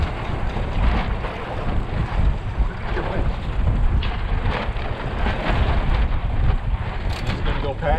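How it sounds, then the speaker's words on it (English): Aboard a MacGregor 26x sailboat on a windy Tampa test run, an outboard motor drones steadily under heavy wind buffeting and rushing water, a constant dense rumble with no clear breaks. "The motor's on, but it does not maneuver well like this."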